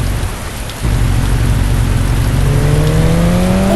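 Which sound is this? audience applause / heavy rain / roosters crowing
heavy rain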